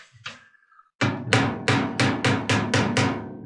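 Sharp metallic hammer strikes on a 1948 Ford truck roof ring out close by, about eight blows in a steady rhythm after a brief faint clatter.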